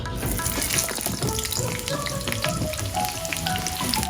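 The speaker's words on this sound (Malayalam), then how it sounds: "ഇതിലേക്ക് നമുക്ക് സവാള ചെറുതായിട്ടൊന്ന് മൂപ്പിച്ചെടുക്കാം." Onions frying in hot oil for a cauliflower Gobi Manchurian gravy, giving a loud, steady, close sizzle that holds without a break.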